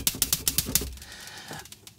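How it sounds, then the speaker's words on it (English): Short drum hit samples from the Zebra synthesizer: a quick run of about eight crisp, clicky percussive ticks in even succession, then a brief pause and a couple of softer taps, fairly quiet with no voices. "So we've got a few drum sounds."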